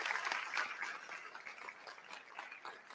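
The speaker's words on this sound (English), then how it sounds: "can we give them a big round of applause?" An audience claps at a technology event, a soft, steady patter of applause that stays fairly faint and distant, with a murmur of voices mixed in.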